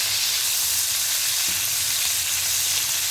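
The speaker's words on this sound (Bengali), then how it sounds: "এখন মাছগুলো নামিয়ে দিয়ে দেব ভাজার জন্য।" Prawns frying in white oil in a pan give a steady, close, even sizzle that runs throughout with no talking.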